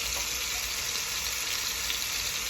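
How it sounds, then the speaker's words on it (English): Chicken browning on one side in a pan gives a steady, soft sizzle, a continuous hiss with faint crackle and no one speaking. "just gonna let our chicken cook a little bit on this side"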